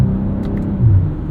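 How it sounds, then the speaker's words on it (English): A 2023 BMW M340i xDrive with an 8-speed ZF automatic accelerates under load, its engine giving a steady, loud, continuous rumbling drone heard from inside the car. "Very linear and responsive power from this engine."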